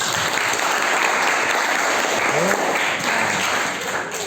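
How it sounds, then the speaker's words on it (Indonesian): A seated audience at a business presentation gives warm applause to welcome the guest speaker, a loud, dense and unbroken wash of clapping with a faint voice briefly audible underneath. "Mari kita sambut Bapak James Lembong dengan tepuk tangan yang meriah."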